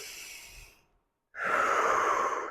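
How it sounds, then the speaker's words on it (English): A deep breath during a yoga flow: an exhale trailing off, a short silence, then a strong, close, airy inhale sustained to the end, with no talking. "Take a big breath."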